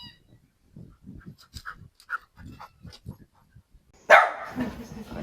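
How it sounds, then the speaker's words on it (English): A neighbour's visiting dog gives a single loud, close bark near the end, following several seconds of soft, scattered sounds. "Our neighbour's dog's come to visit again."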